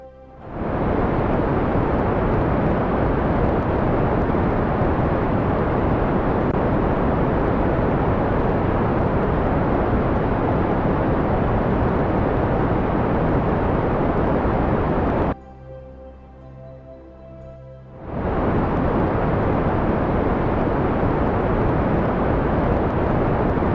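A rocket engine burning in Kerbal Space Program roars as a loud, steady broadband rumble that holds constant for many seconds, drops out abruptly to a faint hum for about three seconds, then resumes at full strength.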